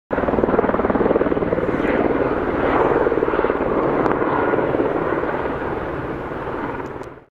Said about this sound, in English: So that chopper just picked up the guys that we bumped into from Niwa.